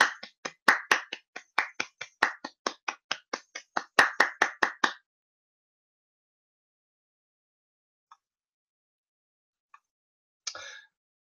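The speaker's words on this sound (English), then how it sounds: "We gotta give him a round of applause" A single person claps in a quick, steady burst of about two dozen sharp claps over five seconds, then silence broken by a few faint taps and a brief rustle.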